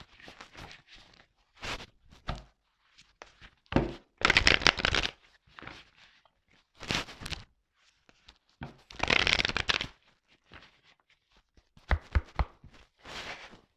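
Tarot cards being shuffled by hand in repeated short riffling bursts with brief pauses between, close and fairly quiet, with no talking.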